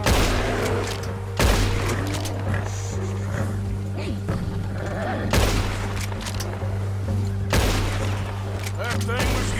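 Gunshots fired while hunting in the video game Red Dead Redemption 2, a few loud cracks spaced several seconds apart over a steady low ambient hum, with voices talking in between.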